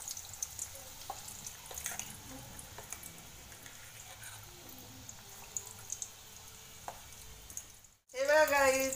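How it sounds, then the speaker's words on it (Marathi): Batata vada, potato fritters, frying in hot oil in a kadhai: a low, continuous sizzle with scattered small pops and crackles, fairly quiet, ending in a brief silence followed by a louder burst. "आता आपण एक एक वडा आहे ना याच्या कढईमध्ये सोडून घेऊया।"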